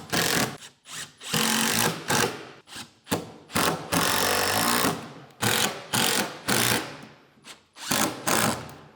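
A power drill drives 1.5 inch screws through pre-drilled holes into a wooden drawer system for a Toyota Land Cruiser 250, sounding as a run of short, close, whirring bursts with brief pauses between them.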